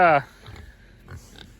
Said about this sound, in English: oh, there's 10 pigs.